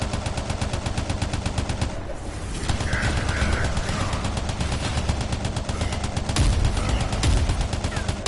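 Continuous rapid automatic fire from a huge-magazine gun in the sci-fi shooter Anthem, loud and close, one unbroken rattling stream with only a brief dip before it resumes.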